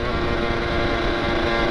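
A motorcycle accelerates on an empty road, its engine droning steadily and loudly throughout with a constant rushing wind and road roar.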